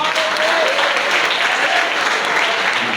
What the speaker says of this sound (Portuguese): receba o servo de Deus com as palmas